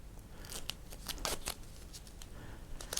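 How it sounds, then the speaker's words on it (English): Duct tape pulled off the roll and torn in short, crisp ripping bursts to hold crimp ferrules on wire in a workshop. The sounds come in several quick strips at moderate level, with no talking. "I'll just secure them with some duct tape."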